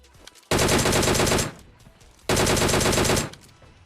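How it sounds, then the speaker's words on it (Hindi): Two long bursts of rapid automatic gunfire from a warehouse in Battlegrounds Mobile India, loud and dense, each lasting about a second with a short pause between. "तभी यहाँ पे सामने वेयर हाउस से कुछ फायरिंग का आवाज आता है।"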